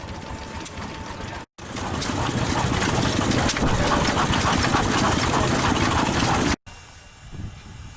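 Several vintage gasoline-powered engines of different sizes run at a railway festival exhibit, a steady loud mechanical chugging and rattling that stops briefly twice before resuming more quietly.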